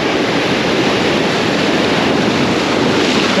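Ocean waves splashing on rocks at a rocky shore fishing spot: a steady loud roar of surf and spray, close and continuous, with wind buffeting the microphone and no talk.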